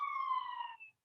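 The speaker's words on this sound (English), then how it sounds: "If you hear the sirens in the background" A single steady ambulance siren tone sounds from a distance in traffic for under a second, then fades out, with no talking.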